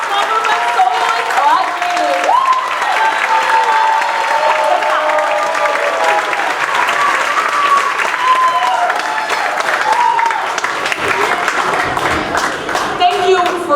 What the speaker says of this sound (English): And one more round of applause for our small group of soloists.